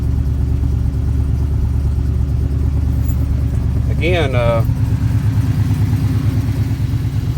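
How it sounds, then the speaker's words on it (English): A 1967 Pontiac LeMans restomod idles steadily with Sniper fuel injection holding a slightly raised idle while cold, a continuous low rumble throughout with a brief voice partway through. "Inside you have the sniper fuel injection, monitoring everything, keeping the idle up ever so slightly until the coolant temperature goes up"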